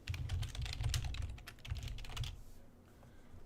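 Rapid, steady typing on a computer keyboard, close and clear, with bursts of clicks that thin out toward the end and no voices.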